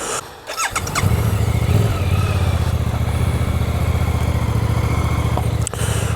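A Suzuki GSX-8S motorcycle cranks and catches, then settles into a loud, close, steady idle with an even rumbling throb that carries on to the end.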